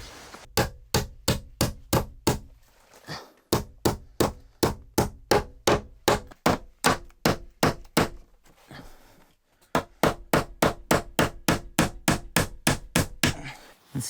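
Repeated hammer strikes while fitting out a log cabin interior, a steady run of sharp, loud blows in quick rhythmic bursts with two short pauses.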